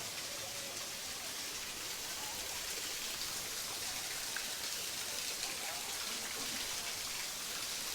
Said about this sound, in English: It's beautiful with the waterfalls.